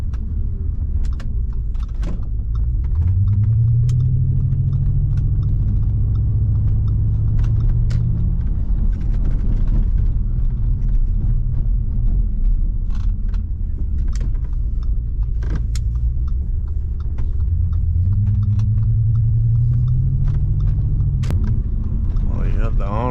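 A 2007 Audi S6 with a 5.2-litre V10 and Quattro drive cruises through a neighbourhood, giving a steady low engine drone with two brief rising revs, heard from inside the car alongside road noise and light interior rattles.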